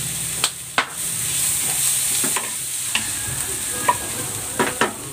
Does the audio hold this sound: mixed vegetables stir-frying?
yes